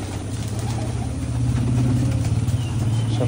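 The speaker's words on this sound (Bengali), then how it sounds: "সব কবুতরগুলো খাচ্ছে।" Pigeons feeding together give off soft, low cooing that runs steadily throughout, with a constant broadband rumble of traffic or an engine behind it.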